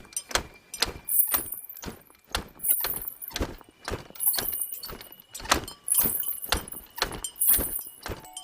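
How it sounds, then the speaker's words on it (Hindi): Bright bullock bells jingle in rhythmic bursts over steady plodding hoofbeats, as of a bullock cart moving along nearby. "बस बैल की घंटियों की आवाज ही सुनाई दे रही थी।"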